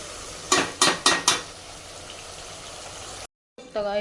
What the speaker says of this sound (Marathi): चमचा चालवत राहायचा एकदम क्रिस्पी होईपर्यंत आपल्याला याला फ्राय करून घ्यायचं आहे